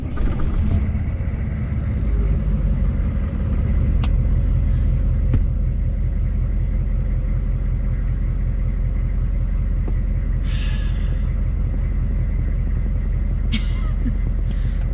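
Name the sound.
6.5 diesel truck engine starting and running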